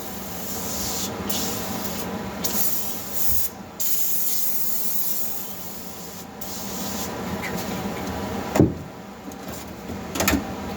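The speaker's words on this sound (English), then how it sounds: "I think I'm gonna spray that on these chains as well." Steady spraying hiss as cleaner is sprayed onto a bike basket, with occasional rubbing and a couple of brief knocks, close by and without speech.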